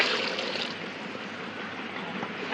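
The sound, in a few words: water being poured into pot for biryani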